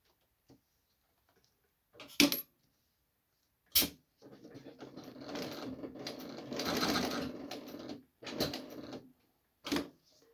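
A Singer 168W101 sewing machine with reverse sews long stitches in a short whirring run of a few seconds, framed by sharp clicks and knocks from the mechanism, otherwise quiet.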